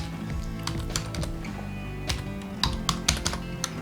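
Close, fairly quiet typing on a computer keyboard, irregular bursts of key clicks with a few louder taps near the end while an email address is entered.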